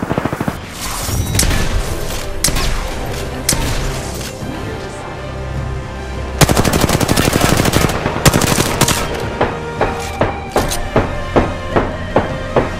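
Video game gunfire rattling loud and close: dense automatic bursts at first, then heavy sustained volleys, ending in a string of evenly spaced single shots.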